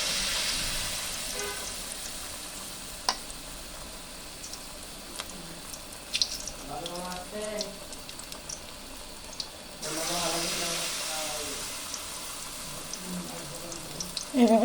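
Battered water lily flowers sizzle in hot oil with a continuous crackling hiss that swells as more pieces drop in, while someone talks over the frying.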